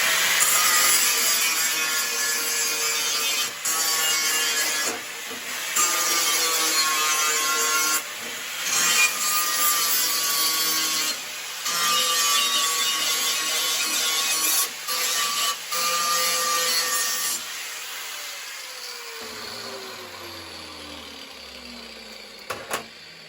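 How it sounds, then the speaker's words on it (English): A power sander working a clamped metal part for a quarter-scale John Deere 4020 model, a loud steady grinding whine with brief dips as it shifts, then winding down to a falling tone near the end. "And then I bring it over here with one of my sanders."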